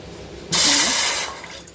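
Water poured into a hot pan of tamarind while cooking drumstick-leaf thokku: a sudden loud hissing rush that holds steady for under a second, then fades into a softer bubbling sizzle.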